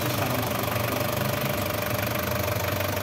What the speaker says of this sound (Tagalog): paandar na natin itong makina para malaman natin kung i-start pa